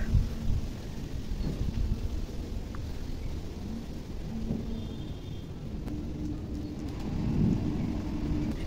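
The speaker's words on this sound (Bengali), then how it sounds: "বৃষ্টিও পড়ছে" Steady rain patters softly and continuously with a low rumble underneath, while faint bird calls sound in the distance.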